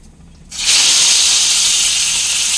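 Pieces of mutton liver dropped into a hot pan with turmeric, bursting into a loud, steady sizzle that starts abruptly and holds continuously at close range.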